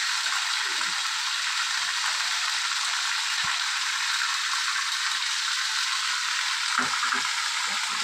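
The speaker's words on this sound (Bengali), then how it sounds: "হয়ে এসছে ভাজা, এবারে আমার সঙ্গে অ্যাড করে দিচ্ছি পোস্তটা।" Poppy seed paste going into a pan of frying ridge gourd and potato raises a soft, constant sizzle, with occasional clinks and scrapes from stirring near the end.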